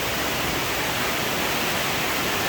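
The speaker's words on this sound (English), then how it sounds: "they get the waterfall features" A waterfall feature at a Caribbean-themed resort pool pours in a constant, dense hiss of falling water, steady and close with no pauses.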